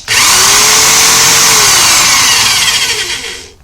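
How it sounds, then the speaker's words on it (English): A power drill spins in reverse while pressed firmly into a metal rod held in a vise, making a loud, close, continuous whine that holds steady for a few seconds and then winds down. "I'll even drill in reverse and push very firmly on it to make an indent into the metal rod"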